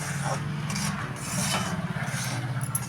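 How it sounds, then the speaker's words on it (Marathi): Semolina roasting in ghee in a pan over a low gas flame is stirred with a steady scraping, rasping sound against the pan, soft and close, with no speech. "हा रवा मी आता चांगला भाजून घेते"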